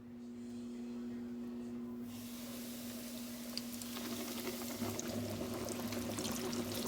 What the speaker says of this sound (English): now I'm going to take this over to the frying pan. And we're going to put this in this grease.